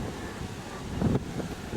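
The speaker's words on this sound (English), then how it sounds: "A little bit windy here today." Strong desert wind gusts at an old telegraph station on the Anne Beadell Highway in outback Australia, a low, rumbling rush across the microphone that swells briefly partway through.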